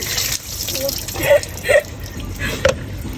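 Water splashes and pours in a series of gushes during a bath, close and fairly loud, with a voice talking over it.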